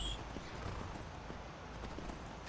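Horse hooves clip-clopping on a road in the Skyrim video game, soft, steady repeated hoofbeats at a moderate distance over a low background rumble.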